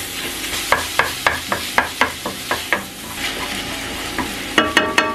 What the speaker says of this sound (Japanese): ひき肉がね、こまごまになるように炒めていきます